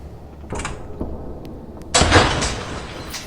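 A door closing in a video game, heard as a short mechanical thud followed by a loud scraping, grinding slide that holds for over a second, with no voices.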